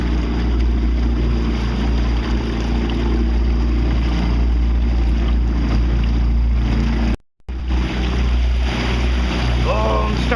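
Waves slapping against a small boat taking on water near mangroves, a constant rough wash of water and buffeting wind close to the microphone, with a brief dropout partway through.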